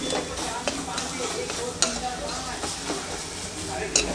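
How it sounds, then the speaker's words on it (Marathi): Mango being mashed and stirred in a pan while making mango sheera, with soft scraping and stirring strokes over a gentle sizzle and occasional light clinks of utensil on metal. "मँगो असा व्यवस्थित मॅश करून घ्यायचा आहे आपण, पूर्ण व्यवस्थित मिक्स होईपर्यंत।"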